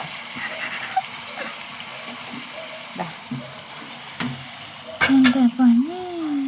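Curry leaves fry in a pan of chicken kondattam, giving a soft, continuous sizzle with occasional stirring clinks, and a voice cuts in briefly toward the end.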